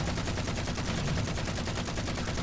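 Rapid automatic gunfire from a Halo 4 match, with a steady stream of shots aimed at a hologram decoy. The bursts are loud and close and run continuously without pause.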